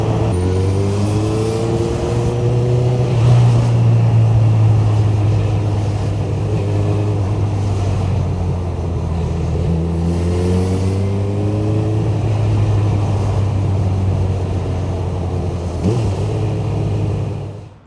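Motorcycle riding through traffic on a motorway on the way to the Isle of Man TT, with a steady loud engine drone and rising revs as the bike accelerates and weaves, no talking.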